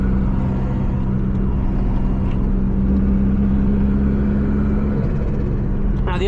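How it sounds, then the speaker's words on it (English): Engine bay cooling fans on a turbocharged Toyota MR2 whir steadily and loudly at close range, a constant droning hum with a low rumble underneath. "let's pop the fans on. Fans are on. I can hear them."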